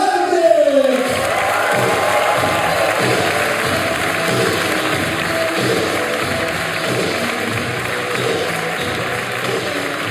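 A crowd at an IFSC climbing World Cup lead final in Kranj, 2021, cheering and applauding the athletes, a dense sustained roar of clapping and shouts that swells briefly at first, with an announcer's voice fading at the start.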